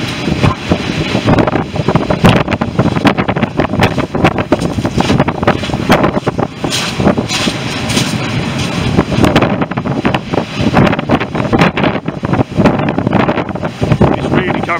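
During Storm Eunice on the Hastings seafront, gusting wind buffets the microphone and waves surge and wash nearby. The blustery roar stays loud and constant throughout.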